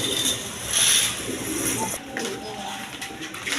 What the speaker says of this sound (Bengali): এখানে একটা আকাশি কালার নর কবুতর আছে দেখেন